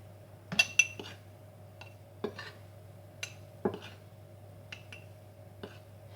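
Crepe batter is stirred in a bowl with a utensil, producing sparse, close clinks and taps against the bowl at irregular intervals over a quiet background hum.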